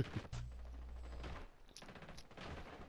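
Gunfire in Rainbow Six Siege comes as rapid, sharp automatic bursts, one near the start and more volleys later, with crackling shots fairly close and loud.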